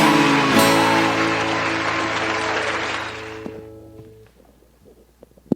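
Children and others at a Sunday school service clap together in a sustained burst of applause that gradually thins out and fades, leaving a few scattered claps and light footsteps at the end.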